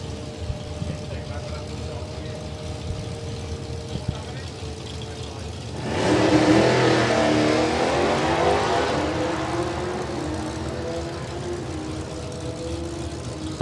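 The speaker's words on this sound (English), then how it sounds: "Dave of course in the big Challenger. And Will in the little black dragster." A big Challenger and a small black dragster launch in a drag race, a loud surge of engine roar building suddenly partway through and fading as they pull away, with commentary underneath.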